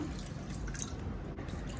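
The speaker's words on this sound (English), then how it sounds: "Add a little water" Steady splashing trickle of water pouring continuously into a cooking pan of Schezwan sauce, fairly close and unbroken, with no voices.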